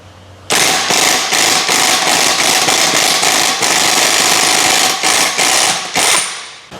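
A Thor 1894 half-inch drive impact wrench with a 1 1/8 socket hammers on a hydraulic cylinder's piston nut, a loud, continuous rattling burst of rapid blows lasting about six seconds, heard close and alone.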